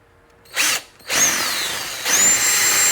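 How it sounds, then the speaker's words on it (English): A power drill whirs in short bursts, a brief spin, a pause, then a longer high-pitched run as it bores through a kayak livewell lid, close up. "drill our hole through"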